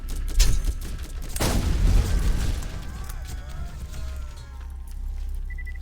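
Gunfire in the Borderlands video game: a loud burst of shots and a big blast near the start, then scattered shooting and game effects trailing off, with players talking over it.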